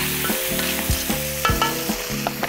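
Cockles and peeled prawns frying in a pan while being stirred, with a steady loud sizzle and repeated scraping strokes of a utensil roughly every half second, close up and with no talking.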